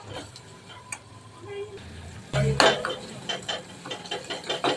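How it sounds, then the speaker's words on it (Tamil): A spoon stirs tomatoes sautéing with salt and turmeric in a pan, giving repeated clinks and scrapes against the metal that grow louder and more rhythmic partway through. "கொஞ்சம் இப்போ லைட்டாக அதை வதக்கி விட்டுக்கலாம்."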